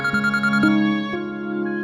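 A telephone ringtone plays alone in a quiet room, a steady electronic melody with repeating tones lasting about two seconds.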